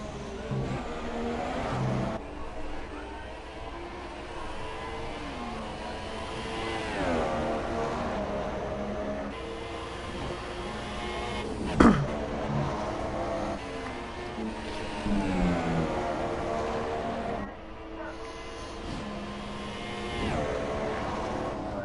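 Formula 1 cars from the F1 2017 video game racing at the Australian round, a continuous engine drone with rising and falling revs as cars accelerate and pass, loud and steady throughout with a brief sharp spike midway.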